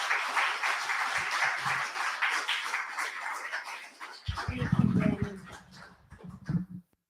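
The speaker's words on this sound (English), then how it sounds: "Let's have a really good round of applause for Penny Arcade." Applause for performer Penny Arcade at a Hoboken celebration of Marsha P. Johnson, a moderate round of clapping that fades out midway. A dog whimpers and barks nearby afterward.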